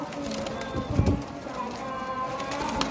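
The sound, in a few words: pigeons cooing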